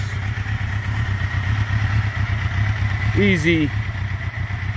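A 1982 Suzuki GS650E motorcycle engine idles quietly with a steady low rumble, while a person talks nearby and a brief faint squeak is heard near the end.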